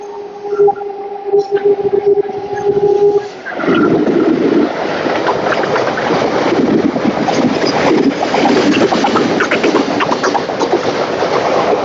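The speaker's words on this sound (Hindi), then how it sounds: "मालगाड़ी WAG5 के साथ।" A WAG5 electric locomotive hauling a freight train rumbles past nearby with steady clattering wheels and a loud continuous roar after an electric hum fades out.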